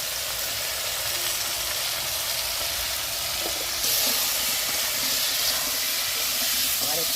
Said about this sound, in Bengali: আবার একটু নেড়ে নেবো। লবণ হলুদটা মাখামাখি করে নেবো